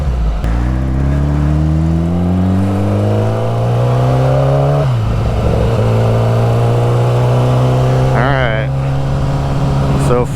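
A Kawasaki ZX10R sport motorcycle, a 2011–2015 model with tuned fuelling, is ridden hard, its engine climbing steadily through the gears with a loud, close whine, a brief shift dip midway, then holding high revs.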